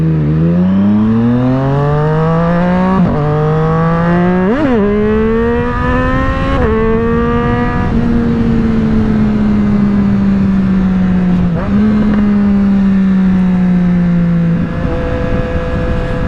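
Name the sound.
Triumph Street Triple 765R motorcycle with SC Project exhaust revving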